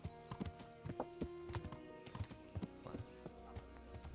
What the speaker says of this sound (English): Deixa eu deixar o cavalo aqui.